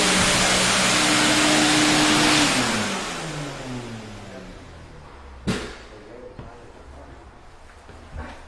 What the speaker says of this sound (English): Got the blower still going.